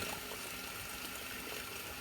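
Steady rushing of water pouring into a basin, a continuous broadband splash that fills the whole clip with no pauses.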